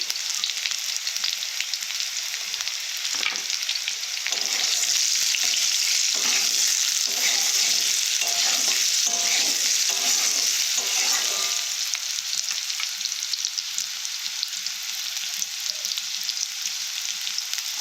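Banana fritter mixture fries hard in a pan, a loud, dense, continuous sizzle that stays close throughout, with a run of rhythmic stirring scrapes through the middle stretch.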